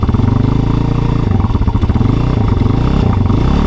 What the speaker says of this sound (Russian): Вы слышите буквально первые секунды работы двигателя.